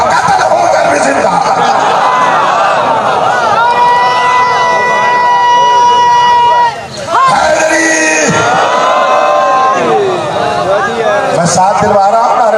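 A large gathering at a religious sermon chants slogans in loud, sustained unison, with voices rising and falling in call-and-response waves, close and dense.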